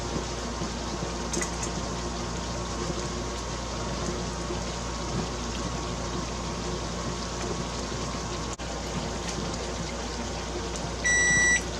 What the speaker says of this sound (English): Alright, there's my timer.